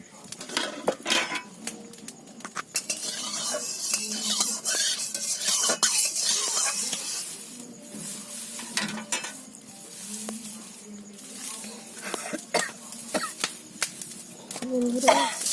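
Oil heating in a kadai wok over a low flame in a village home kitchen for a fish curry, with a steady soft sizzle under spoon stirring and pot clatter, and a voice talking at times.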